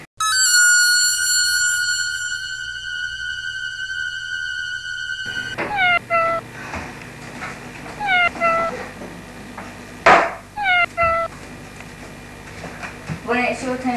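A cat meows repeatedly in short, clear cries, several spaced calls following a few seconds of steady electronic ringtone-like tones, fairly loud and close.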